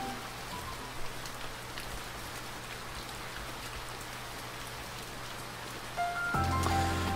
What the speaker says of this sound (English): it was quickly drowned out by the pouring rain